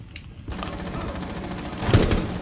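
Gunfire in Rainbow Six Siege: a rapid, steady stream of close shots as a dense rattling burst, swelling louder toward the end.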